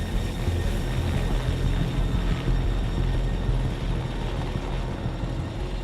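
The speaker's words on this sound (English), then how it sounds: "the helicopter sets off on the 20-minute climb to the jump" A helicopter climbs toward a wingsuit BASE jump altitude, its dense rotor and engine noise a steady, loud, continuous drone heard from inside or very near the aircraft, with no voices.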